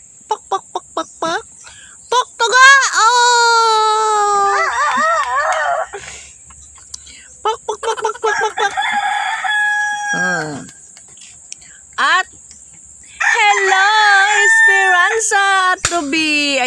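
A rooster crows several times, long wavering calls, loud and close, with short clucks and bird chatter between the crows.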